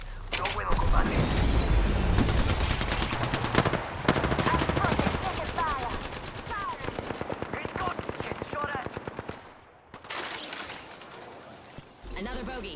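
Rapid automatic gunfire in the video game Apex Legends, long rattling bursts crackling with mechanical clatter, briefly broken by a pause before more shots, while a character's voice calls out over the fight.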